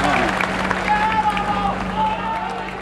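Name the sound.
protest crowd during Burma's Saffron Revolution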